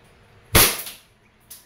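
A DB Pit Viper airsoft pistol, a John Wick 4 style replica, fires through a chronograph: one sharp, close, loud crack, then a fainter second shot about a second later.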